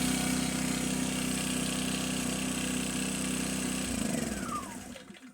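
A small inverter generator engine runs steadily indoors after a test start following an oil change, a loud continuous hum that drops in pitch and winds down toward the end as it is shut off.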